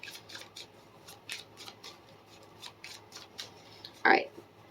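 A deck of tarot cards being shuffled in a series of soft, quick riffling bursts, close up, with a sharper louder burst near the end.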